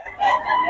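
A young rooster, a stag, crows once, close and loud, its strained call rising and holding for under a second with no voices over it.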